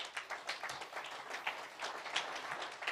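A room of event attendees gives the sponsors a steady, moderately distant round of applause, with many overlapping claps and no voices on top.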